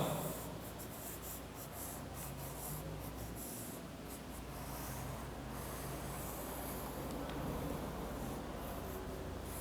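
A pencil moves continuously across paper during a drawing lesson, giving a faint, steady scratchy rubbing with slight changes in pressure and no speech over it.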